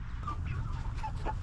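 Ten-week-old meat chickens cluck softly in short scattered calls on a clover pasture over a steady low outdoor rumble, with no talking.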